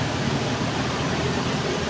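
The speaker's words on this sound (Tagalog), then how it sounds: "Yung alon." Rushing floodwater on a flooded street in Dagupan, a loud, continuous broadband roar of surging water with no break and no voices.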